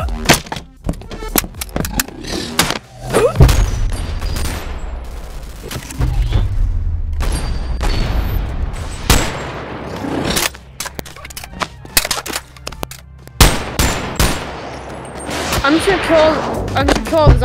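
Virtual gunfire and melee thumps from the VR game Boneworks during a zombie fight, with repeated sharp shots and impacts scattered irregularly over the stretch amid other game noise, loud and close.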